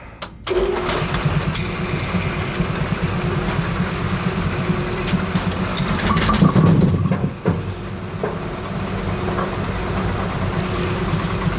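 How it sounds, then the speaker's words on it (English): A Brunswick bowling pinsetter's turret and gearbox run steadily with a continuous mechanical hum and rattle, with clunks and clicks scattered throughout and a louder clatter near the middle. "we gotta make sure that the gearbox, the clutch disengages when it gets there"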